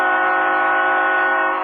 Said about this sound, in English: Our first ridiculous train horn of the night.